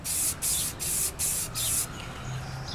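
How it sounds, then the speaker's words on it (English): Spray can laying primer onto a plastic part from a Suzuki RG250 motorcycle under restoration, five short hissing bursts in a row, close and loud, then a quieter tail. "to put on two coats nice and thin so there's minimize the chance that we're going to get the thinner that's in the primer melt in the plastic"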